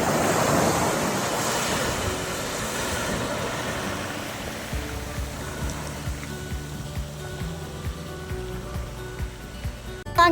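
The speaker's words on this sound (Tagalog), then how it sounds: "Ang hanging habagat at hampas ng alon dumudulog at niyayakag na tayo ng karagatan." Ocean surf on a Philippine shore driven by the southwest monsoon wind, a loud broad wash of breaking waves with steady wind rumble, strongest at the start and easing into a continuous churning roar.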